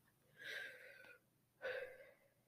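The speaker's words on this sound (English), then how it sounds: "So let's take a deep breath." Two audible breaths close to the microphone, a long airy inhale followed by a pause and a second breath with a slight wheezy, hissing edge, with no talking over them.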